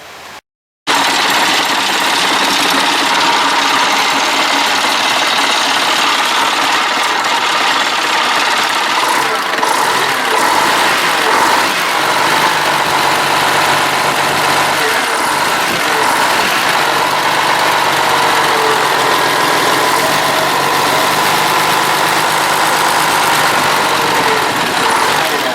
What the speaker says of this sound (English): A bit more of the engine from this side.